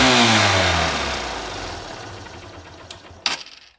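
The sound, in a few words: motorcycle engine starting after spark plug cleaning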